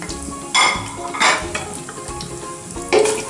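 Masala for chicken biryani frying in a pan and being stirred, with a steady sizzle and three louder scraping bursts from the spoon against the pan, close up and with no talk.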